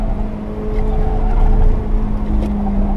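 A 2017 Mazda MX-5 ND on BFG Rivals tires drones loudly at high revs against the rev limiter, a sustained buzzing engine note heard from inside the car without a break.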